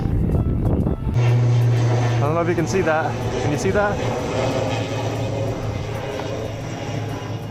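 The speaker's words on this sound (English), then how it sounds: "Looks like a propeller plane." A propeller plane taking off drones loudly and steadily in the distance, its engine hum continuous throughout while a person talks over it.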